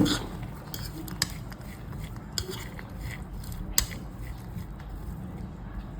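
A spoon scrapes and clinks steadily against a bowl while a salad of sprouted moong beans, chickpeas and chopped coriander is mixed, giving a continuous close rattle with occasional sharper taps.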